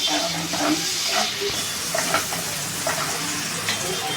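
Tomatoes sizzle and fry in a pan while being sautéed for dal pakwan, a steady loud hiss with occasional stirring scrapes close up and faint talk.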